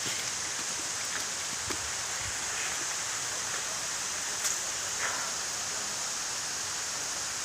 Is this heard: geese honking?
no